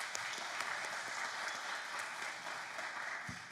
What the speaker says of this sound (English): So can we just give a clap for that?